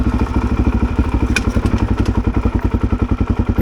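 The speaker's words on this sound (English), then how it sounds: "use the engine braking of the bike as well" A Suzuki DRZ400 single-cylinder dirt bike descends a desert trail on engine braking, its close, loud exhaust thumping in a fast even pulse, with occasional rattle and clatter.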